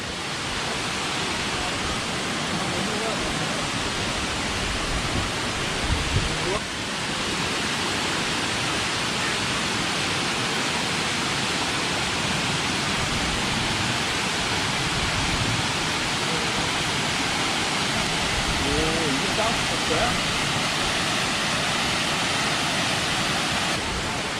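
Kuang Si waterfall in Laos, seen from a wooden viewing bridge, rushes as a steady, dense broadband roar of falling water that stays loud and constant throughout, with no talk over it.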